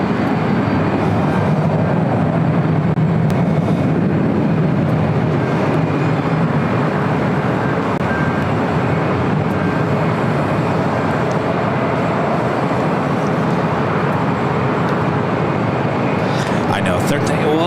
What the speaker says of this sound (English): Next takeoff here on the south side is United Airlines Flight 2374 heading to Phoenix in the